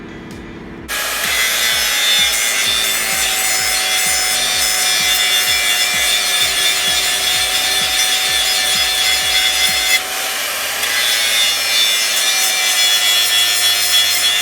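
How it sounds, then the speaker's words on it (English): Power grinder working the pointed end of a metal volleyball net pole, a steady loud abrasive whine that starts abruptly and runs continuously, with a brief dip near the end, no talk. "And then we will go ahead and grind this so that it is smooth and it easily goes into the ground."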